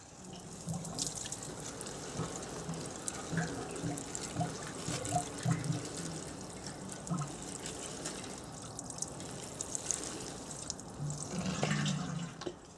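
Seedlings in a garden propagator being watered, a steady trickle and splash of water running continuously for several seconds at moderate level, with no talking.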